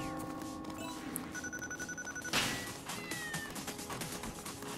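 Cats meowing in the video game Tokyo Jungle, quiet drawn-out game meows over a busy background of game music and effects, with a sudden crash-like burst in the middle.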